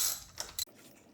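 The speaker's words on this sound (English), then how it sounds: "Once I fit that down on there, I can loosen the plug up" A socket wrench loosens a spark plug on a Suzuki V-Strom motorcycle, giving a few quick ratcheting clicks close up and then a brief faint tail.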